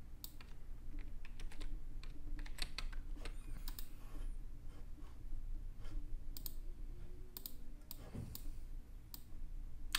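Fingers type on a computer keyboard, entering a city name into Framer X, a design app; the quick, irregular bursts of crisp key clicks sound close up against a faint room hum.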